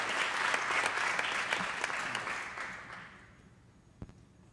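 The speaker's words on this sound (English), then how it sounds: "Let's give him another big round of applause, too." Audience applause at a city council meeting, a dense burst of many hands clapping that fades out over the last second, ending with one faint isolated clap.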